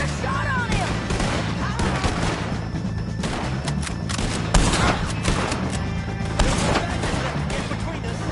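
In the Red Dead Redemption 2 Western game, a shootout with the O'Driscoll gang fills the scene with dense, continuous gunfire, overlapping rifle and pistol shots near and far, and characters shout over the barrage.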